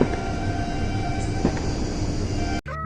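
A steady, loud rumble of a train rolling past nearby, continuous throughout, then cutting off abruptly near the end.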